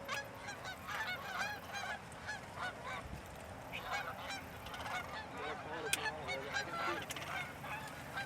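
Large flocks of geese honk continuously overhead as they descend toward a corn field during a goose hunt, a dense chorus of overlapping calls, some near and loud, others farther off.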